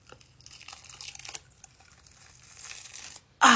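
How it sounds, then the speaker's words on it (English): A zipper is pulled to rip off special effects makeup, giving soft scratchy tearing and crinkling noises that build gradually and end in a sharp, loud rip at the very end. "If I just pull the zipper, will it rip off?"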